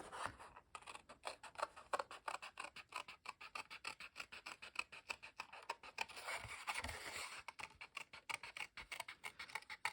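Scissors cut out a traced fabric piece for a stitched circle, making a fast, steady run of quiet snipping and rasping strokes, close and faint, with no talk.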